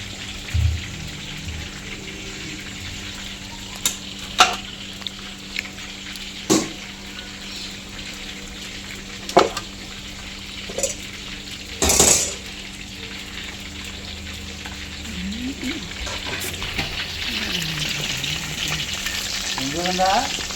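Chicken frying for chicken fried rice at a food stall, a continuous sizzle broken by sharp clicks and clanks of a utensil against the pan, with a louder bubbling surge near the end and no talking.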